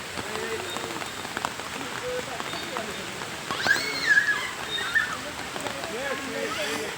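Steady rain patters on surfaces outdoors at a nature park, a continuous close hiss with a few brief louder swells.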